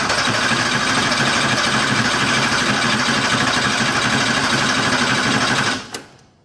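Porsche 911 engine cranking on a jumper pack with the throttle open for a compression test, a loud, steady, rapid mechanical churn that runs continuously for about six seconds, then cuts off with a brief clunk.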